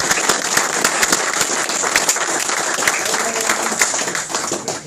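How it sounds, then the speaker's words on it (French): An audience applauds the sponsors at a sports club gathering, a loud, sustained burst of clapping from many hands, dense and even throughout, with some murmuring underneath. "Donc vous pouvez tous les applaudir."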